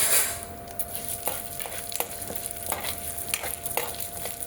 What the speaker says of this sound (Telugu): అందుకోసమని నేను కొంచెం నూనె వేసి నేను వేయించుకుంటున్నాను.